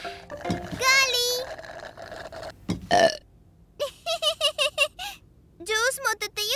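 A child burps repeatedly in loud, croaky bursts, with squeaky cartoonish voices and short chatter around them.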